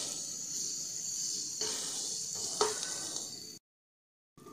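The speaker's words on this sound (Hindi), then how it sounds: "ये लहसुन थोड़ा सा हमारा भुन जाए" Garlic sizzling as it fries in a pan, a steady bright hiss with a few soft stirring scrapes, then a brief drop to silence before the sizzle returns.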